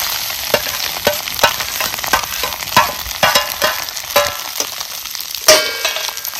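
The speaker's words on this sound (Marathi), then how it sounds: "आता ही तेलात अंडी फोडलेली आहेत ना ही चांगली परतून झालेली आहे." Eggs and roasted onion fry in hot oil with a steady sizzle, broken by regular scraping and stirring strokes of a utensil against the pan, close up and with no talk.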